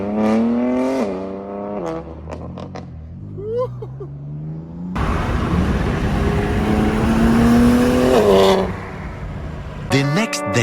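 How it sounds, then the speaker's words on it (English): A BMW M4 G82 fitted with a $2,000 titanium single midpipe exhaust revs loudly outdoors, its rough engine roar climbing in pitch for a few seconds between stretches of people talking. "The boy's car sounds so good."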